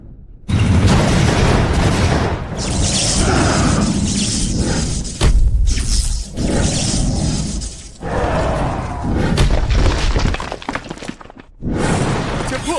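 Dense bursts of gunfire and heavy explosions rage through an anime battle scene, loud and continuous with brief gaps, shattering crashes and booming impacts layered over each other.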